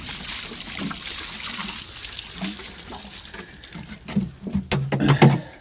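Water pours from a can or hose onto garden plants, box balls among them, a steady close splashing and trickling that grows heavier and more spattery toward the end, with no talking.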